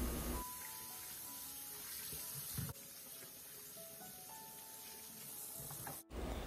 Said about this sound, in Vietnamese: Sau đó mình rửa lại cho thật sạch ở dưới vòi nước đang chảy nha.